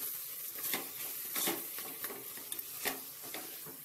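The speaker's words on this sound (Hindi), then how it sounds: "भून लेंगे 1 मिनट के लिए।" Minced meat (keema) frying in a pan on the stove, a close sizzle with repeated scraping, stirring strokes and small clatters, steady and moderately quiet, no voices.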